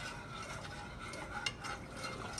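Whole milk and heavy whipping cream being stirred together in a pot for queso blanco, a soft steady swishing with a faint scrape of the utensil against the pot, close and quiet, with no talking.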